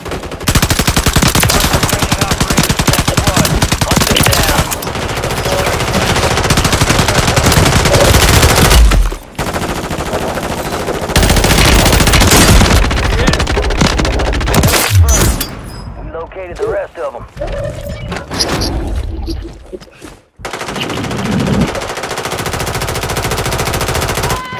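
Rapid machine gun bursts in Warzone video game combat, loud sustained automatic fire with brief pauses and some scattered shots later, a player talking over parts of it.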